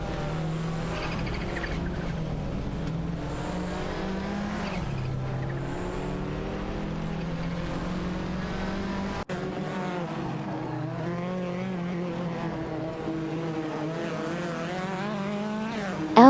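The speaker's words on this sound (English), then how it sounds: "watching a virtual race with AI-controlled cars battling it out on the track" AI-driven race cars, including a Porsche 911 Carrera RSR, scream around a video game circuit, layered engine notes rising and falling steadily with a hint of tire squeal, loud and continuous throughout.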